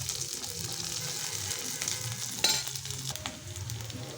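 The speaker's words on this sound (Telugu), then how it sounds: "ఇప్పుడు కొద్దిగా కరివేపాకు యాడ్ చేసుకున్నాను." Curry leaves hit hot oil in a cooking pan and set off a steady, loud sizzle. A sharper crackle bursts out partway through over the continuous frying hiss.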